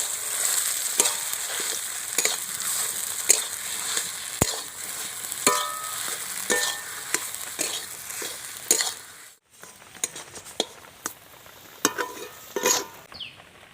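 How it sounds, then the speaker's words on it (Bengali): Potatoes go into a pan with ginger and garlic for aloo chop and fry with a steady sizzle, while repeated scraping and clinking stirs punctuate it close up, with a short pause near the end. "এবার ওর মধ্যে আমি দিয়ে দিচ্ছি আলু। আলুটা খুব ভালো করে আমি নেড়ে নেব।"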